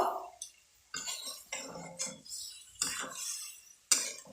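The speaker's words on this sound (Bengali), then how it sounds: "এবার ভালো করে এটা মিশিয়ে নেব" Mixed vegetable chhechki being stirred with water in a pan, with a spoon producing intermittent scraping and clinking strokes against the pan, close and fairly quiet, separated by short silent gaps.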